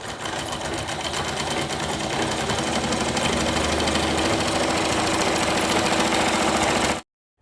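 A sewing machine runs steadily for about seven seconds, stitching two panels of a four-panelled petticoat together in a fast, even mechanical whir before stopping abruptly.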